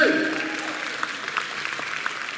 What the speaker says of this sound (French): vos applaudissements pour Carré Kiraka, s'il vous plaît